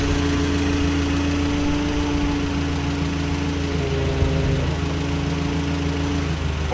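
A Nissan Unicarriers PF60DF 6,000 lb gasoline forklift idles steadily with a low, even mechanical drone and slight vibration, close and loud throughout with no talking.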